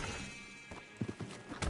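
Hoofbeats and a whinny from a horse named Old Father Time in the Red Dead Redemption 2 video game, faint and close, with a few soft clops and a brief neigh near the end.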